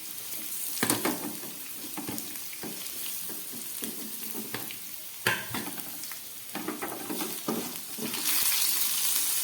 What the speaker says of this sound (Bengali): আলুগুলোকে আরও সামান্য ভেজে নিচ্ছি।